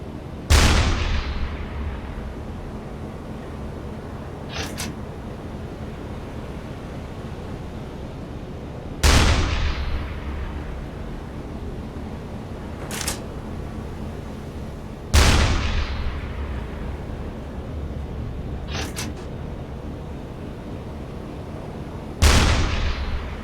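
A U-boat's deck gun fires in the submarine game U-Boat, four heavy booming shots spaced several seconds apart, each decaying into a rumbling tail, with sharper distant cracks between them.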